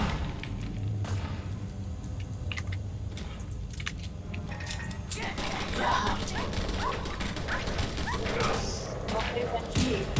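Dog barking, yipping and whimpering in the Fallout 4 video game, short bursts over a busy mix of game noise and shuffling, with someone talking.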